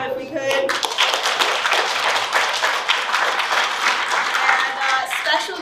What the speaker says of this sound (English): I just want to give one more round of applause to them if we could.